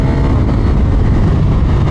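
A KTM 890 SMT motorcycle engine runs hard and loud near 6,000 RPM, a steady, heavy roar with wind buffeting and no pauses.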